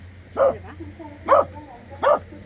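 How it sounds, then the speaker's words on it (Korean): A dog barks three times in sharp, evenly spaced bursts, set off by a voice, with a low hum running underneath throughout. "여자 목소리 나오면 짖는다"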